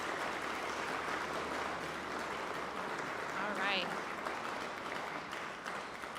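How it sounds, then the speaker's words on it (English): An audience at an AVID senior celebration applauds steadily from a distance, a soft, continuous wash of clapping as a voice briefly speaks over it. "and you can clap to that."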